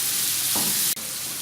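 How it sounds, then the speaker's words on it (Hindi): Daal mash sizzling in a pan as it is stirred, a loud steady close hiss with a brief scrape near the middle and a short dip before it resumes. "तो इसको मिक्स कर लेंगे।"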